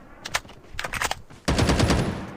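Machine gun fire in a video game: rapid bursts of close, loud shots, first a few short broken volleys, then a sustained dense stream of fire at the end.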